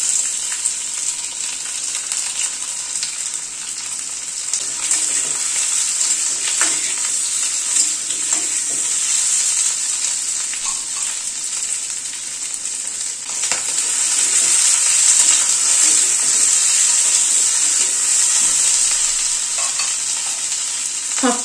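Potatoes fry in hot oil with a green chilli tempering, giving a loud, continuous hissing sizzle that holds steady for the whole stretch and swells slightly toward the end, with faint stirring scrapes.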